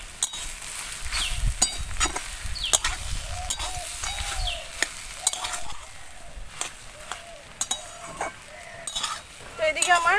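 A spoon scrapes and clinks against a pan while potatoes are mixed with fried spices and fried peanuts, with sharp, irregular taps over a faint sizzle.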